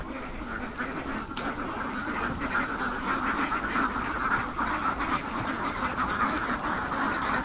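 A large flock of ducks on a farm lot in Nueva Ecija quacks steadily and densely throughout, a continuous overlapping chorus at moderate distance with no talking.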